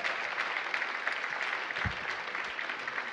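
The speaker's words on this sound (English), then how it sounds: "Give Chris Van Hollen a big round of applause." Audience applause at a DC Emancipation Day democracy breakfast, a steady, fairly soft wash of clapping filling the whole stretch with a brief low thump near the middle.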